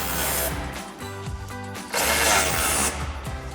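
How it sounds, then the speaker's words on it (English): A ratchet wrench tightens a support bracket bolt for a step bar on a Jeep Wrangler JL, making loud, close, whirring bursts with brief pauses between them. "Tighten down our support bracket bolt."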